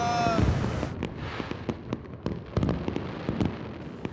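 Fireworks go off during an outing on a trip, with a rapid series of sharp, loud bursts and crackles over a steady rumble; a brief tonal whistle opens the sequence.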